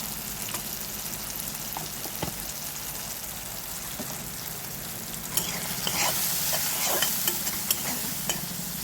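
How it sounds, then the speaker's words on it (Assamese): Spices with red chili and salt frying in a pan, a continuous sizzle broken by scraping stirring strokes that grow louder and busier in the second half; no one speaks. "সেইখিনি এতিয়া ভালকৈ ভাজি লওঁ"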